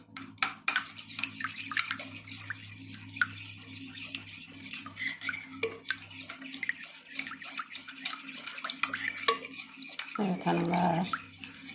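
A spoon stirs a dry yeast mixture in a bowl, making a run of close, light clinks and wet scraping taps, with a voice heard near the end.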